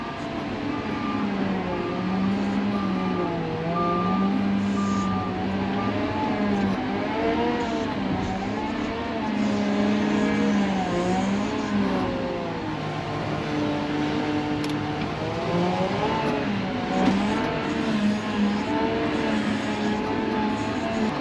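A heavy truck engine drones and revs nearby on a dirt road, its pitch rising and falling as the truck works its way closer, steady and loud throughout.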